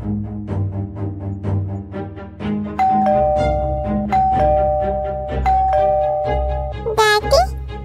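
A cartoon doorbell rings several times in a row, clear bright ding-dong chimes over background music, with a high sliding tone near the end.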